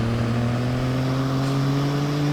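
Hennessy-tuned Chevy Corvette C7 engine in the Roblox game Greenville, a steady loud droning hum with strong low tones holding nearly constant pitch throughout, no talk.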